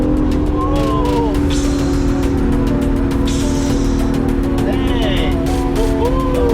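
A 2019 Acura NSX fitted with SOS downpipes and a JB4 tune, heard from inside the car while driving, with a loud, steady engine drone throughout and rising and falling whine as the revs climb, under excited talk from the occupants.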